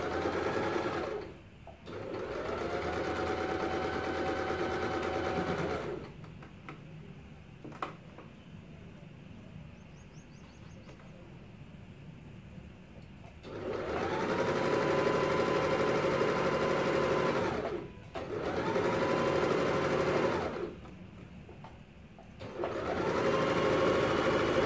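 A sewing machine double-stitching a DIY crop top, running in several loud sustained bursts of rapid mechanical whirring separated by short pauses, close and alone.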